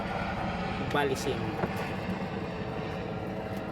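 A helicopter passes near Balesin Island, Polillo, Quezon, heard from out on the water as a continuous broad rumbling drone throughout, with a brief voice speaking over it partway through.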